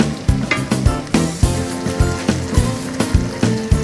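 Tomatoes stirred into a loudly sizzling pan for a Filipino stew, with steady frying hiss broken by regular thumps and scrapes of the spoon, close and without talk.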